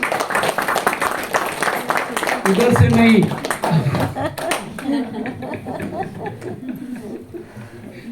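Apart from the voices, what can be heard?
audience clapping hands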